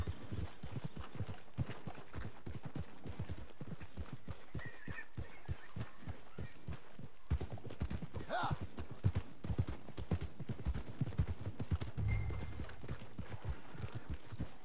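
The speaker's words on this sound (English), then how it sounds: "But get out of the way of the horse" Horse hooves clip-clop steadily on a town street in the western game Red Dead Redemption 2, a continuous rhythmic patter that stays fairly quiet beneath ambient background sound.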